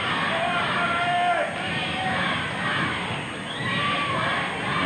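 Wrestling arena crowd in a bout between Abdullah Ali Hassan (the Sheik) and Tommy Rogers roars and chants in unison, a loud continuous wash of many voices with rhythmic swells across the whole stretch.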